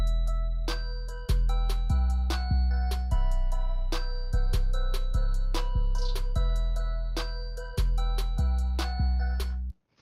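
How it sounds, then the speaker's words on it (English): Volume-boosted snare pattern in a dark ambient trap beat, the crisp hits now louder and more prominent, repeating in a syncopated rhythm over deep sustained bass and pad notes, with no voices. "I'm just going to boost the volume to the max."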